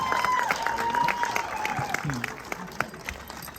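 A convention audience applauds and cheers as a guest walks onstage at a Scooby-Doo anniversary Q&A, with dense, steady clapping and scattered shouts that taper slightly near the end.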